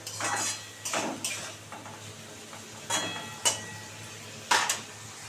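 Metal clinks and scrapes of utensils against a cooking pan of prawns and flat beans with a little water, ending with the clatter of a lid being set on; several sharp knocks spaced out over a low steady hum.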